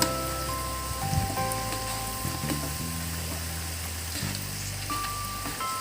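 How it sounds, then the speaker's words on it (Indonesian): Peanuts fry in hot oil with red chili and lime leaves for spicy-sweet kribo peanuts, a steady crackling sizzle with light pops under a background musical tone. "Ini goreng bersamaan dan goreng sampai kacang dan semuanya ini matang sempurna."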